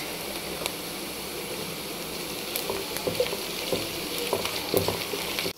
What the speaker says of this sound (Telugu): ఇప్పుడు ఆనియన్స్ వేగుతున్నాయి